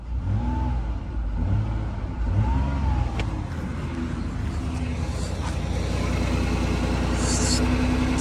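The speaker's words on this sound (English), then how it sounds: "Give it a few revs for it to build fuel pressure." A 2008 Ford Escape engine revving just after a fuel filter change, several quick rises and falls in engine pitch up close, then settling into a steady idle hum.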